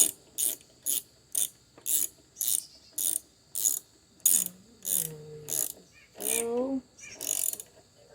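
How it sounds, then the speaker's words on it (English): Ratchet tightening a bolt on a Troy-Bilt lawn mower with a Honda engine: sharp, evenly spaced clicking strokes about every half second, close and fairly quiet, with a few brief vocal sounds near the end. "let's tighten down the other one"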